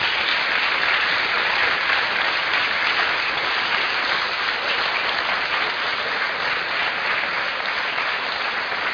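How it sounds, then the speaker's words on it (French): Thunderous, dense audience applause for an author at a science talk, a continuous wash of clapping at steady loudness from start to finish. "je vous demande de faire un tonnerre d'applaudissements à Jean-Claude Kaufmann"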